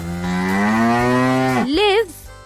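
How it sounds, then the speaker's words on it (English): A cow gives a long, loud, drawn-out moo, closely recorded, ending with a shorter rising call. "Cow."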